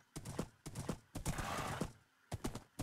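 Horse hooves clop in Minecraft while riding through trees, quick bursts of several steps separated by short pauses, fairly quiet and alone.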